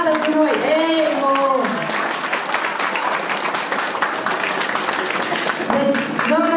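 Audience applause at a Christmas carol concert in Rome, clapping to invite a singer up, sustained through most of the stretch, with sung or played tones and voices mixed in at the start and end.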